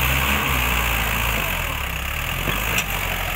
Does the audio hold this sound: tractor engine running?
yes